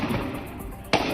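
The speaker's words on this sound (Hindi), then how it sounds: "आतंकवादी राहगीरों पर फायरिंग कर रहे हैं।" A single sharp gunshot-like crack from terrorists firing on passers-by in a street, heard over a steady loud background noise near the end.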